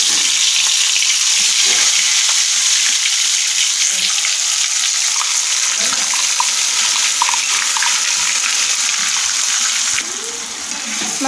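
Masala spices fry in hot oil with a bay leaf for a rohu fish curry, giving a loud, steady hiss and sizzle with occasional stirring sounds, continuous and close, easing slightly near the end.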